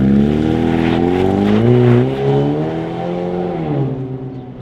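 A 2019-2023 Ford Ranger fitted with an AWE Tuning dual exit cat-back crawler conversion exhaust revving up close, the engine note rising, peaking and easing back in a steady, throaty drone.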